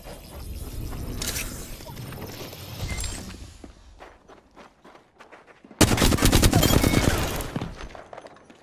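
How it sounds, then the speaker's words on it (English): Rapid bursts of automatic gunfire in an Apex Legends firefight, a sustained rattling volley, then scattered shots and footsteps, then a loud dense burst near the end, close and intense. "They're shooting at me."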